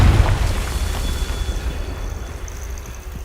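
In Hogwarts Legacy, a Confringo fire spell lands with a loud, close boom that opens on a heavy low thump and rumbles away over a few seconds.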